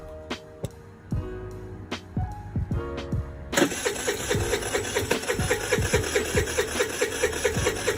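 A Ruckus clone scooter engine freshly fitted with an upgraded carburetor, first ticking over with uneven pops, then catching and running with a steady rapid rhythmic putter and rising revs, loud and close.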